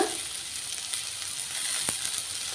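Ingredients for spinach chutney fry in a pan with a steady, close, hissing sizzle, a single sharp utensil tap cutting through near the end, and no one talking.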